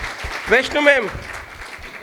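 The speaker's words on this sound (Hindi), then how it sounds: "thank you very much tiger sir के लिए बहुत बहुत तालियां" An audience claps loudly throughout, a dense wash of applause with a voice speaking briefly over it.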